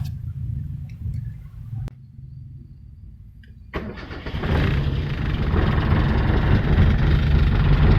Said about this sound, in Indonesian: kita bisa mulai menyalakan mesin untuk memanaskannya terlebih dahulu